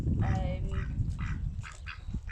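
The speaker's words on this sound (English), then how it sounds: "Please excuse the ducks, they're about to do a thoroughfare, I think, at some point." Ducks quack in several short bursts close by in an outdoor setting during dog harness training, over a steady low rumble of background noise.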